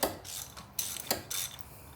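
A hand ratchet tightens new spark plugs on a 2002 Mazda Miata, giving bursts of close, crisp metallic clicking in several short runs with brief pauses between them, with no voices.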